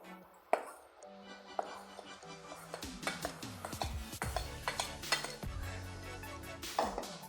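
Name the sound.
beating cake batter with flour mix in a bowl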